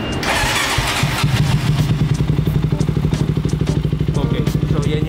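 A Motorstar Cafe 400 motorcycle with a BR Megaphone exhaust starts and settles into a close, loud, rhythmic idle thump, with a brief voice over the start.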